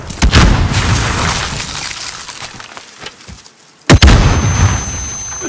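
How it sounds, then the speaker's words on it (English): A stun grenade detonates in Call of Duty: Modern Warfare during a tense 2v2 match: a loud, close blast with a sharp crack at the start, a rumbling tail, then a second heavy burst near the end. "Throwing stun!"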